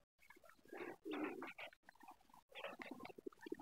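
Pigeons cooing in a garden beside a watered field, several soft bursts of low throaty calls in close succession, fairly near and quiet.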